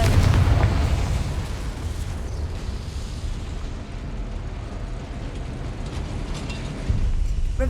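A Confringo spell explosion in the Hogwarts Legacy video game: a heavy blast opens, then a dense, roaring rumble with crackling debris carries on for several seconds before a final thud.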